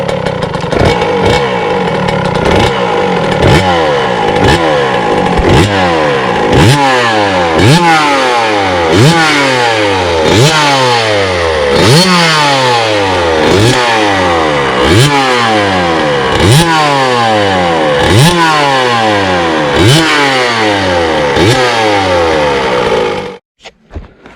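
A small KTM SX 65 two-stroke dirt bike engine revs repeatedly, close and loud, with a dozen sharp rising blips in a steady rhythm, each falling back before the next, ending abruptly.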